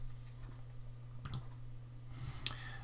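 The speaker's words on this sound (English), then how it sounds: "so I click edit" A computer mouse clicks the edit button in a quiz tool: two sharp, close clicks, about a second apart, over a quiet steady hum.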